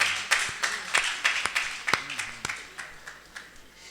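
Audience clapping at a Hindi poetry recital (kavi sammelan), a scattered, moderately quiet round of claps with distinct individual hits, tapering off toward the end.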